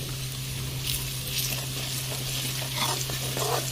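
Ojri (tripe) seasoned with red chili and salt is stirred in a hot pan, giving a soft, steady sizzle with faint scraping strokes of the spoon over a low hum.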